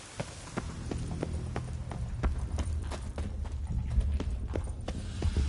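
A horse gallops in The Witcher 3 with a steady run of hoofbeat thuds over a low rumbling hum, clear and close with no talk.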